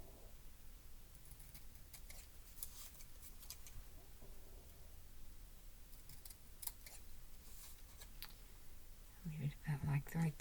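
Scissors cut paper for a collage, giving soft, faint snipping and rustling close by, with a few louder crisp snips near the end and quiet speech around them.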